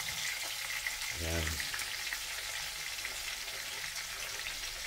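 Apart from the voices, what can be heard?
onion frying with salmon in a pan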